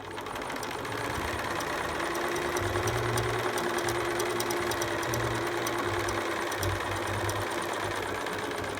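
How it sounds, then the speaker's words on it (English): A sewing machine fitted with an open toe foot runs steadily with cotton thread, stitching along a marked line at about 10 to 12 stitches per inch for a preemie shirt, a continuous close mechanical whir with slight speed changes throughout. "I'm just going to sew on the dotted line using about 10 to 12"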